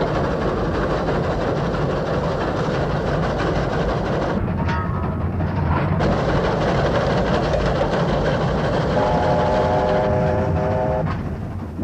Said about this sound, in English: the train was steaming into the vast expanse of the Australian outback